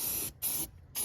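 Aerosol spray paint laying black coats onto engine bay parts of a built 2JZ-powered Lexus IS300: three loud, close hissing bursts separated by short pauses.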